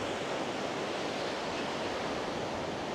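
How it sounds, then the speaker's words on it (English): Waves of the South China Sea break steadily at Miri, Malaysia, a continuous close wash of surf mixed with some wind noise. "But this is the South China Sea."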